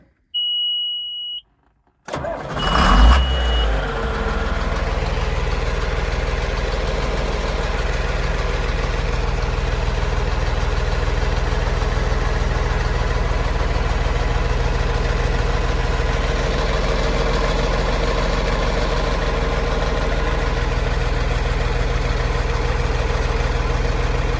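A John Deere tractor engine cranks and catches after a brief silence, then settles into a steady, rumbling idle that continues unchanged for the rest of the clip.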